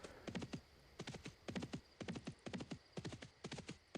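Horse hooves clip-clopping in the online game Dark Age of Camelot, a quick rhythmic trotting pattern in repeated bursts of several hoof strikes, fairly quiet and steady, with no talking.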